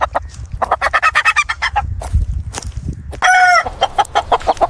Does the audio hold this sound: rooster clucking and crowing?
yes